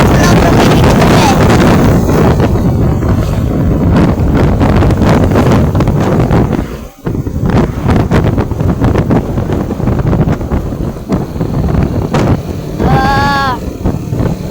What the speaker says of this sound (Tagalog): Kung maririnig nyo yung lakas ng hangin, ang sarap pa.